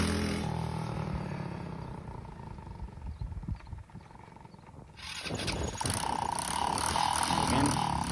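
A custom West Coast Chopper motorcycle on a road: a rough engine rumble that dips and then swells loudly again, close by, as the bike makes a pass.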